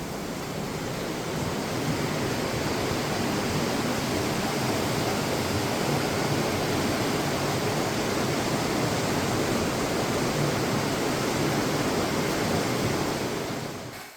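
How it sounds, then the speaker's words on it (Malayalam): Waterfalls pour through Partnach Gorge, a narrow mountain gorge with big rock walls. The roar of rushing water is loud, dense and unbroken, heard alone with no voices. "വാട്ടർഫോൾസിന്റെ സൗണ്ട് ഒക്കെ കേട്ട് ഈ വലിയ പാറക്കെട്ടുകളിലൂടെ ഈ കാഴ്ചകൾ കണ്ടു നടക്കാൻ"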